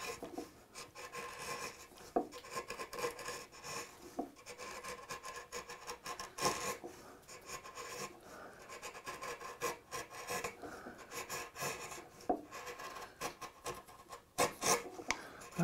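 A hand saw sharpened on concrete cuts through end grain red oak, giving a quiet, rhythmic rasping of repeated push strokes with small sharp accents, close and fairly faint, with no talking.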